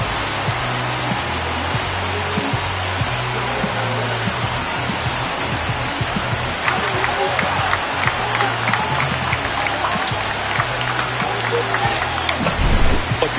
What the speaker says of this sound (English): That should put a jolt into this home crowd.